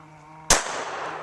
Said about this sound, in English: Just going to be shooting over in this direction.